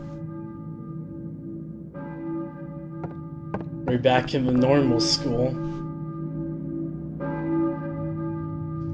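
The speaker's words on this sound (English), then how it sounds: "I hear a church bell, maybe? Who's ringing that bell?" A church bell rings in the Silent Hill video game, set in a school, producing sustained resonant tones that hang on while a person talks briefly over the middle before the bell swells again.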